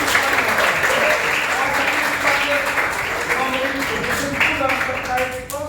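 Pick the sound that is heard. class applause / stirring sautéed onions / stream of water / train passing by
class applause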